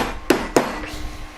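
Two sharp metallic hammer blows strike a silver leaf ring set in a block, spaced about a quarter second apart and ringing briefly, close and loud over a quiet background.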